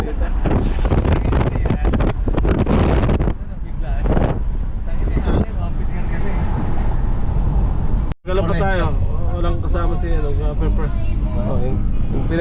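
Strong wind buffets the microphone with loud, rumbling gusts during an outdoor pilgrimage walk in Batangas City, while people talk over it and a short dropout breaks the noise midway.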